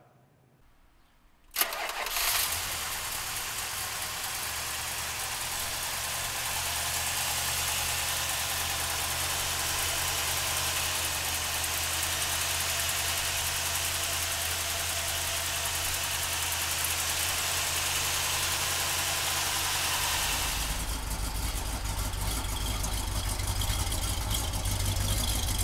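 A 1970 Plymouth Road Runner with a V-code engine cranks and fires, then settles into a loud, steady, rumbling idle that carries on alone, with a deeper shift in the low rumble near the end.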